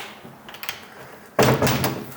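Heavy thud and rattle of a locked drawer on old barn furniture being yanked, a quiet stretch followed by one sudden loud jolt with jostling wood that carries on briefly.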